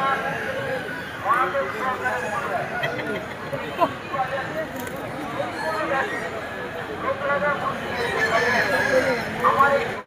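A rooster at the Poradi haat poultry market crows and clucks amid a busy crowd, with constant chatter and market babble around it at close to middle distance.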